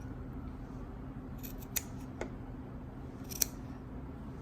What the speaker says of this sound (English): I'm going to clip out along the seam.